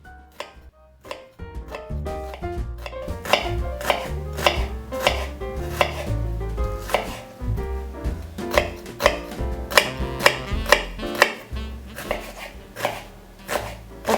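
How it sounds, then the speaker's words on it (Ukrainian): Steady rhythmic chopping, a knife slicing mushrooms on a cutting board in quick repeated strokes, with a low music bed running underneath throughout. "Нарізаю гриби, в мене вони середнього розміру, їх 9 штук."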